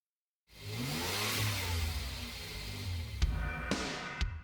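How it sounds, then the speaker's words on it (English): A Lexus RC F sports coupe with a V8 engine accelerates on the road, its deep, steady engine note building loud and close from start to finish, with a few sharp clicks or gear-shift blips near the end. "Now what's under the hood is a good old-fashioned V8 power plant"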